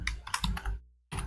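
Fast keystrokes on a computer keyboard while entering a payment narration in accounting software, a dense burst of close clicks that stops abruptly into silence before a few more keys resume.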